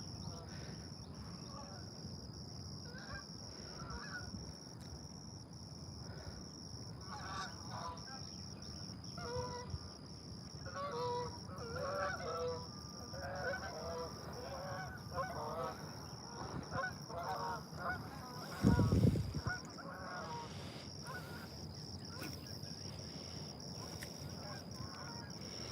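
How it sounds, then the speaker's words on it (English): Geese honk in a distant flock flying over a freshwater fishing spot, with faint repeated calls under quiet outdoor ambience and a brief loud bump near the end. "Look at these geese."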